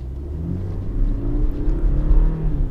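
A BMW 420i Gran Coupe with 190 horsepower and an 8-speed automatic accelerates, its engine note a deep, rising rumble heard from inside the cabin, swelling steadily louder across a few seconds with no voices.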